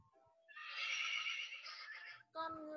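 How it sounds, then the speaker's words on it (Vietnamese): A horse lets out one long, loud whinny lasting nearly two seconds, followed by a brief voice. "Con ngựa."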